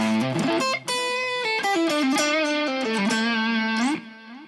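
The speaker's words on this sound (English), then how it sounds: "I think it's a pretty good sort of high gain kind of a tone." A high-gain, distorted electric guitar tone from an Ena Nova Go Sonic smart guitar plays a quick run of sustained, bending notes rich in harmonics, loud and alone, ending in a brief rising squeal.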